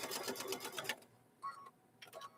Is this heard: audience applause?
no